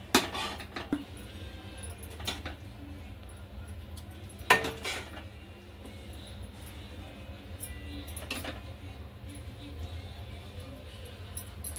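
Dhaba-style dal khichdi served from a pot onto a plate after the gas is turned off, with a few sharp metallic clinks of a spoon against cookware over quiet kitchen background.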